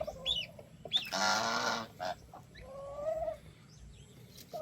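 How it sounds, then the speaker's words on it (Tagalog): A farmyard turkey gobbles in a loud rattling burst, alone and close, framed by a few shorter calls from fowl nearby, with quiet gaps between. "Yung pabo natin, oh."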